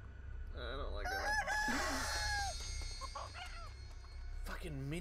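A chicken crows in the video game Chicken Feet, a loud drawn-out cock-a-doodle-doo with clucking around it, while a person talks over the game sounds.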